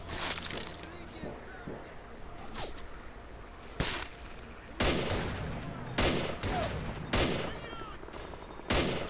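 Sharp handgun shots in S.T.A.L.K.E.R. Clear Sky ring out as separate loud cracks, fired irregularly about a second apart, with a faint voice and background ambience between them.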